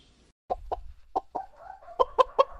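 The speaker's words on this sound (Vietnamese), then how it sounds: "Con gà." A chicken clucks in a short series of sharp, separate calls, a few spaced notes building into quicker repeated clucks, close and clear against a quiet background.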